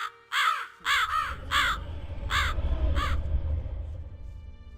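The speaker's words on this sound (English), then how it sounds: "A lot of bird noises as I left" Bird calls in the Gothic II video game, a raven-like bird giving about six harsh, hoarse caws in quick succession over a low rumbling ambient background.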